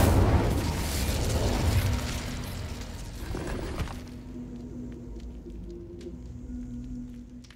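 The Incendio fire spell erupts in a Harry Potter video game with a loud, roaring burst of flame that rumbles for a few seconds, then fades into a quieter ambient hiss.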